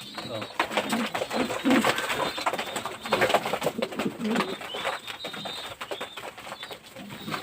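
King pigeons coo in a brooding loft, soft low throaty calls repeating close by, mixed with rustling, light knocks and someone speaking over them.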